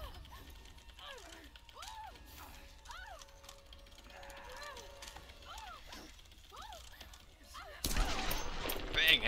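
Gunfire in the Tomb Raider video game: shots and mechanical weapon clatter over other game sounds, ending in a loud, dense burst of noise near the end.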